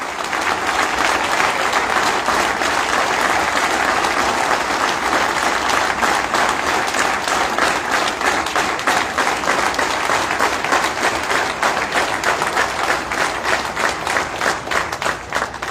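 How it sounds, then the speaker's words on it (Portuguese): A large audience at a Vizela municipal election campaign presentation in Portugal gives sustained, loud applause, with dense steady clapping throughout. "peço uma grande salva de palmas"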